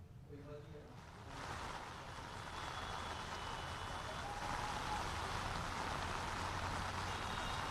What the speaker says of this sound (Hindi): आप तस्वीरें देख रहे हैं कि किस तरह जो राजधानी में तेज बारिश हो रही है